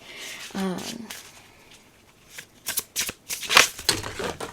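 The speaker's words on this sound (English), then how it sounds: "Can we do it without dropping like all of the cards?" Tarot cards being shuffled and dropped, a burst of riffling and slapping card sounds in the second half following a short stretch of speech at close range.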